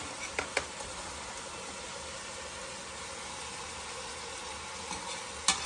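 Cumin seeds sizzle in hot oil while rice is being fried, a steady, quiet hiss broken by a couple of faint clicks.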